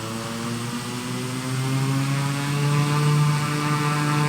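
Airplane propeller engine in a flight game drones steadily and loudly, its pitch shifting and swelling slightly as the plane is maneuvered to park.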